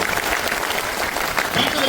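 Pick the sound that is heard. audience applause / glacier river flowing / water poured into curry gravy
audience applause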